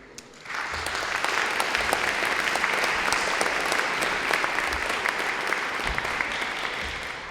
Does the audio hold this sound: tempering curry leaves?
no